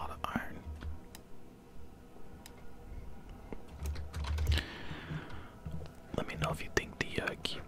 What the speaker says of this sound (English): If you think the keyboard and mouse sounds a little overwhelming